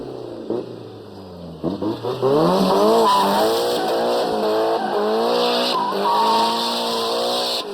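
A car with a new turbo accelerates hard, engine rising through revs with loud tire squeal and skidding, close and sustained for several seconds.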